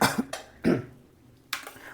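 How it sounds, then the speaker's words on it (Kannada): Three sharp coughs close by, set off by chilli fumes while cooking, spaced apart with short quiet gaps between them, no talking. "ಆ ಕಡೆ ತಿರುಗಿ ಕೆಮ್ಮಿದ್ದು"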